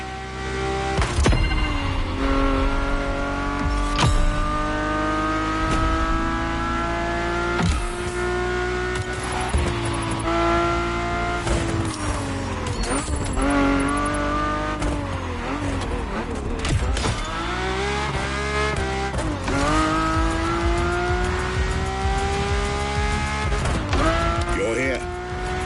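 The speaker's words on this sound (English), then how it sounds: "a Ferrari F50." A Ferrari F50 engine in a racing video game, revving loudly and continuously, its pitch repeatedly climbing and dropping as the gears change.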